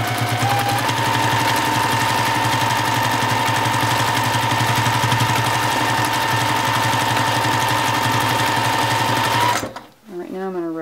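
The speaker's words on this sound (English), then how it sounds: "it's always important to oil and clean your machine, and that'll really help with the clunky sound." A sewing machine running steadily during free-motion quilting, with a constant rapid mechanical whir and clunky knocking throughout, loud and close, stopping abruptly near the end.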